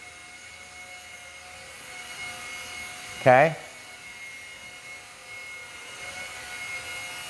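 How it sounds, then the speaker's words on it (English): A small Eachine E130 ready-to-fly RC helicopter holds a hover with a thin, steady motor whine throughout, while someone briefly speaks over it. "So, as I move the stick, it moves the position of the helicopter."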